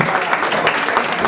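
Loud, dense audience applause fills a festive anniversary gathering as a guest is welcomed, a continuous wash of clapping from many hands with no break.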